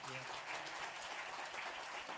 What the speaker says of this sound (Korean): 뜨거운 박수로 한번